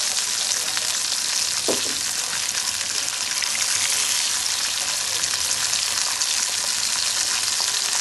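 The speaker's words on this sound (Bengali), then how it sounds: "কড়াইতে তেল দিবেন, ইলিশ মাছ দিবেন, তারপর কড়া করে ভেজে নেবেন" Pieces of hilsa fish, rubbed with turmeric, chilli and salt, frying in hot oil in a wok, sizzling loudly and steadily up close with a brief stir partway through, no voices.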